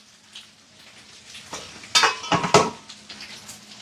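Sausage sautéing in a pan during a live home cooking session, a soft steady sizzle broken by a few sharp, loud clanks of utensil against pan near the middle, with no talk.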